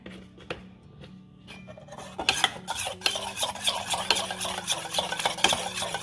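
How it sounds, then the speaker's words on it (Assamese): Pancake batter of egg and milk whisked in a bowl, steady clinking strokes that start faint and sparse, then turn loud, rapid and continuous, close up with no talking. "আকৌ মিক্স কৰিবা।"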